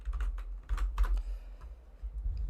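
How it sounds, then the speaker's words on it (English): Someone types on a computer keyboard close up, with rapid clusters of key clicks, a short pause, then more taps over a low background hum. "Keyboard ASMR"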